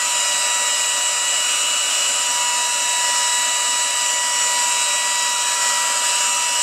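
A hot air blower roars steadily and loudly while heating wool, a constant close-up whoosh of blowing air with no pauses.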